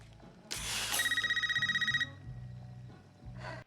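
Home landline telephone ringing in the horror film Scream (2022), a loud electronic trill that starts abruptly, pulses rapidly for about a second, then stops, over low music, with another burst starting at the end.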